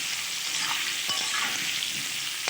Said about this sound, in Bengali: এবার এরকমভাবে নেড়ে চেড়ে আলুগুলো ভেজে নেব।